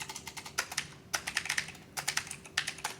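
Quick bursts of typing on a computer keyboard as a prompt is entered, clusters of crisp clicking keystrokes separated by short pauses, close and fairly quiet.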